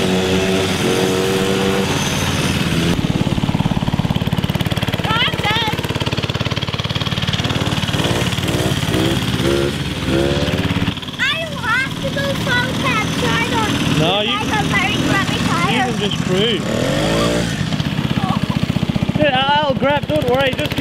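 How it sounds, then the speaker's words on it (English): A small, roughly 5 horsepower go-kart engine running and revving, rising and falling in pitch, with people talking over it. "So this engine's a bit weak, it's like 5 horsepower"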